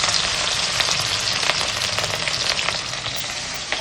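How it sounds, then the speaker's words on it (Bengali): Small salted, turmeric-rubbed pieces of snakehead (shol) fish frying in hot oil, giving a loud, steady, dense sizzle with crackling spatter throughout, close by and with no talk. "আর এই মাছগুলোই একে একে তেলের মধ্যে দিয়ে সুন্দর করে ভেজে নেব"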